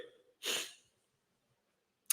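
One short, forceful sneeze bursts out faintly in a quiet room, followed by a soft breath.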